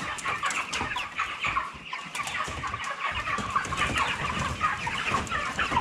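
Cobb 500 broiler chickens cluck and chatter continuously in a farm poultry house, a dense flock murmur with overlapping close and distant calls throughout.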